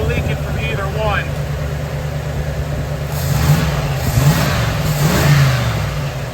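A Chevrolet S10 truck engine runs after carburetor needle and seat work, a loud nearby rumble that swells in several revving surges, with a voice speaking over it.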